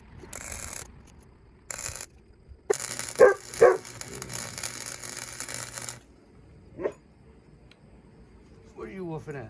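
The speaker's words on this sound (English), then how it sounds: "What are you woofing at?" A German Shepherd puppy gives a few short barks and yips in separate bursts among shuffling and clipping noises close by, with a person speaking briefly.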